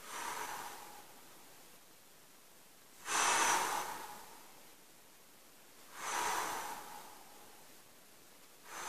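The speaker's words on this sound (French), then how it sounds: "On inspire, souffle." Slow, heavy breaths during a muscle-strengthening exercise set, two long, loud airy exhales or inhales spaced about three seconds apart over a faint steady background hiss, with no talking.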